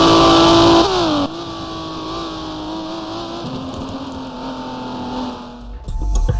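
A Ferrari race car engine in GT Racing 2002 screams through high revs, drops pitch sharply at a gear change, then holds a sustained whine before cutting off into a brief clunk at the end, loud and up close.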